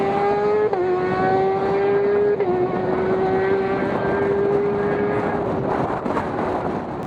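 A 2008 Graves Yamaha YZF R6 race motorcycle screams at high revs, its strained engine note holding steady with a couple of brief dips as gears change, loud and close throughout.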